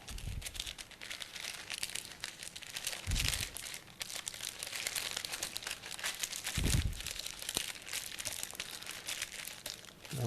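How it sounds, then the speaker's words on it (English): Parchment paper crinkles and crunches as it is folded in short segments around a piece of fish, with a steady close crackle and a few louder crumpling bursts. "Fold it over the fish and then start at the rounded end and then fold in half-inch"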